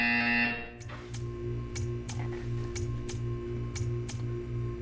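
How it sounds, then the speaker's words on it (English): A buzzer sounds in a test chamber in the video game Portal 2: a steady electronic tone with a quick, even series of sharp pulses repeating over a low hum, fairly loud and with no voices. "You will hear a buzzer."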